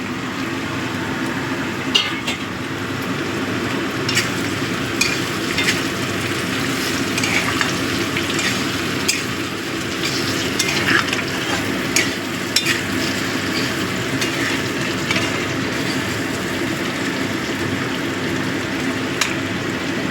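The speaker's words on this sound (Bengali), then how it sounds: "আলু পেঁয়াজটা ভালো মতো ভাজা হয়ে গেছে এবার আমি দিয়ে দিচ্ছি টমেটো" Potatoes and onions frying in a pan sizzle steadily as tomato is added, with a continuous loud crackle and occasional stirring scrapes, no voices over it.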